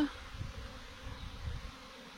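Honeybee swarm arriving and being gathered from a branch near a hive, heard as a quiet, steady low buzz of many bees with soft swells, no voices.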